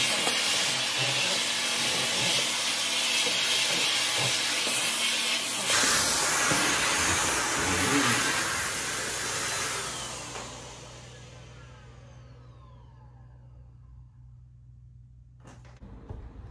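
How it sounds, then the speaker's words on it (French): A household vacuum cleaner runs loud and steady at close range with a broad airy roar, then winds down and cuts off near the end, leaving a low hum and quiet. "Je vais passer un petit coup d'aspirateur quand même"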